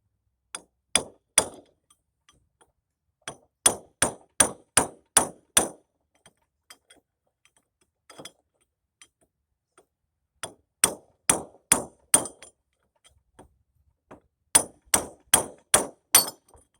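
A hammer tapping on a trailer wheel bearing race in sharp metallic strikes, loud and close, delivered in quick bursts of three to six taps separated by pauses.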